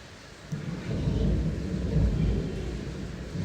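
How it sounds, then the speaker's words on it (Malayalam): A deep rumble of thunder swells and lingers over a steady roar of heavy rain, fairly close and loud. "ഇടിമുഴക്കത്തിൻ്റെ ഒച്ചങ്ങൾ കേൾക്കുന്നുണ്ടോ അറിയില്ല പെരും മഴയാണ് കേട്ടോ പുറത്ത് പെരും മഴ"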